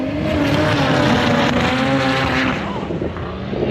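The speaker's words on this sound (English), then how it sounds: "They're running front wheel drives right now." Front-wheel-drive drag racing cars at a dragway roar loudly with high revving engine whine and tire noise, a sustained close blast that eases slightly near the end.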